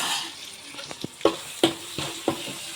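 Curry leaves land in a hot pan of cooked onions and sizzle, a hissing fry punctuated by several distinct taps and scrapes of a spoon against the pan.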